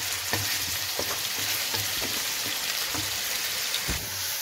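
Onion with ginger garlic paste frying in a pan gives a steady, dense sizzle throughout, with soft scrapes and taps of a spoon stirring at intervals; no voices.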